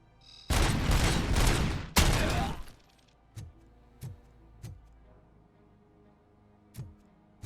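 Video game gunfire: a heavy burst of rapid shots crackles loudly for about two seconds, pauses briefly and fires again, then gives way to single sharp reports spaced roughly half a second to a second apart.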